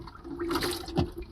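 A camper bathroom toilet flushes with a short rushing, gurgling surge of water that builds and splashes for about a second, fairly close and with no talk over it.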